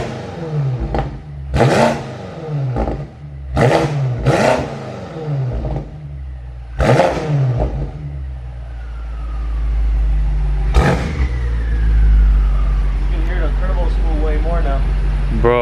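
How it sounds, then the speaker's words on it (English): A BMW X5M Competition fitted with downpipes, in Sport Plus mode with its exhaust opened, revs sharply in several loud, close bursts that rise and drop back, then settles into a deeper sustained drone with a whine, while people talk nearby. "we're gonna give you guys a few more revs while it's on Sport Plus mode or Sport mode, whatever this thing has, because it opens up the exhaust a little bit."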